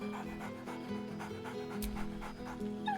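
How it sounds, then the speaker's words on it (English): A dog in the Baldur's Gate 3 video game pants in rapid, even breaths over a steady low background hum, with a faint whine near the end. "Scratch barks merrily in something like agreement."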